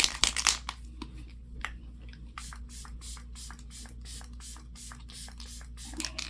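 Makeup setting spray misted from a pump bottle in quick repeated bursts, a string of short, close hissing puffs spaced fairly evenly, with light handling noise at the start and end.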